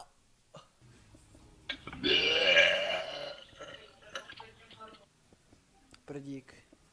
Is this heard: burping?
yes